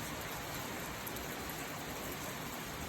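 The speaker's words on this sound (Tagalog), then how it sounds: "Lakas ng ulan." Heavy rain pours steadily over a countryside farm area, a dense, even hiss with no breaks and no voices.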